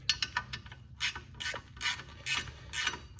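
A wrench working a bolt on the front hub bearing of a 2010 Town and Country, producing repeated ratcheting clicks in short bursts with brief pauses between them, close and fairly clear.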